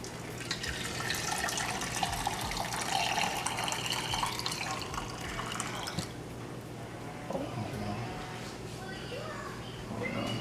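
Homemade lemonade trickling and splashing through a kitchen strainer, a wet pouring hiss for several seconds that thins to scattered drips, with people talking faintly in the background.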